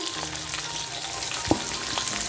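Lengthwise-sliced large onion frying with curry leaves in oil for onion rice, giving a close, steady sizzle with a sharp stirring clink midway, with no voices.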